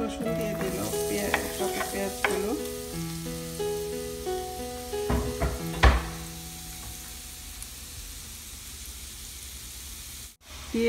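Vegetables sizzle in olive oil in an automatically stirring pan, with a steady frying hiss under clinks and knocks of the stirring mechanism, a sharper clatter near six seconds, then quieter sizzling.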